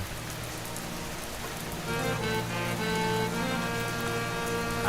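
Steady, dense rain hisses throughout, growing slightly heavier midway, with faint sustained tones humming underneath.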